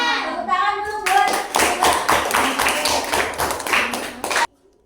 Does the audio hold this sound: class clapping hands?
yes